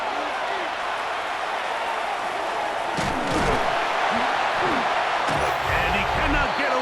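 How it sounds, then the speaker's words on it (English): Stadium crowd noise from a Madden 27 simulation of Cardinals vs 49ers on PS5, a steady loud roar that swells around a sack before the two-minute warning, with commentary voices over it. "The crowd cranking it up another notch"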